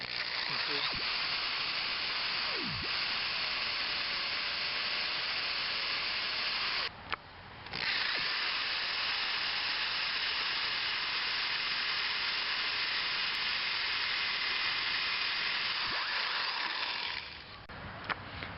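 Steel drill bit boring and progressively enlarging a hole in a GM lower control arm ball joint, cutting oil applied; a loud, steady high-pitched whine grinds on continuously with a brief pause midway, no talking.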